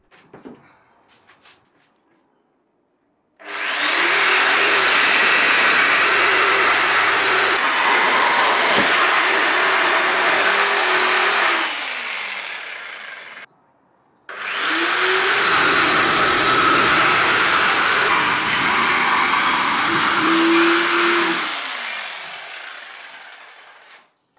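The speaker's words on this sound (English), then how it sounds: "the cutouts can be made with a jigsaw" A jigsaw cutting corner cutouts in a workbench board, two long loud buzzing cuts of about ten seconds each separated by a short pause, harsh and close with no talk.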